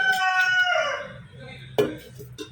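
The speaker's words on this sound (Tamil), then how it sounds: "நான் வீடியோ எடுக்கும்போது எங்கள் வீட்டு சேவல் கூவுன்னு சொல்லி நான் சொல்லியிருக்கேன்" A household rooster crows once, close and loud, its long harmonic call sliding downward before trailing off, followed by a brief sharp clatter against a quiet yard background.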